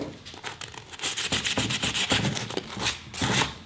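Sandpaper scrubs by hand over epoxy filler on a 1954 Chevy steering wheel, a close, rhythmic rasping of quick back-and-forth strokes with no talk.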